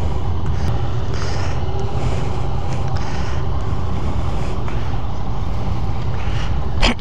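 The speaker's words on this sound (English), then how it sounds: "very nice little motor, the triple" A 2015 Yamaha FZ-09 (MT-09) 850cc triple-cylinder motorcycle engine rumbles loud and steady from close range, a dense continuous drone with wind noise and no talk.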